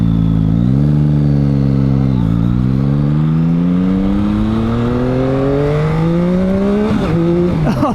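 A 2019 Beta 500RRS dual sport motorcycle accelerates hard, the loud close engine note climbing steadily through several gear shifts, each marked by a brief dip before it winds up again.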